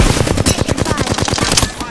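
Rapid automatic gunfire in the Apex Legends battle royale game, a dense, continuous burst of closely spaced shots, loud and close throughout.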